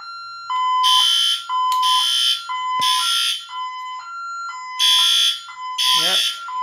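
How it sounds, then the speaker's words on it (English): A smoke alarm sounds during a fire drill in a system test, with loud repeating electronic beeps and tones in bursts of roughly a second, close and alone. "Well, let's do a fire drill."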